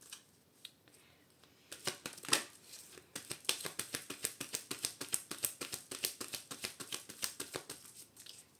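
Tarot cards being cut and shuffled by hand, a close run of quick rhythmic riffling flicks that grows steadier and denser toward the end, fairly quiet and with no talk over it.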